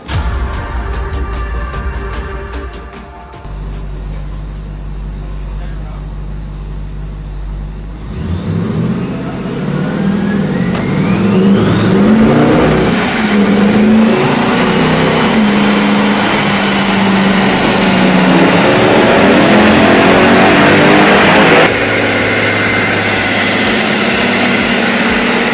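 A supercharged Hemi 6.4 Jeep Grand Cherokee on a dyno, first idling with a low rumble, then revving loud and long as a supercharger whine climbs and holds high before dropping back toward idle.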